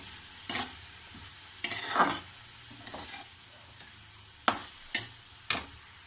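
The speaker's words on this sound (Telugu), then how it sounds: "కలుపుకుందాము." Meal maker curry is stirred in a pan: a handful of distinct scraping strokes and taps of a utensil against the pan, separated by quiet gaps, over a faint sizzle.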